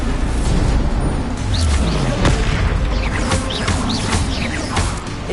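A Bombarda spell explodes in the video game Hogwarts Legacy, a loud, rumbling blast that fills the whole stretch with dense, continuous noise and a few sharper cracks.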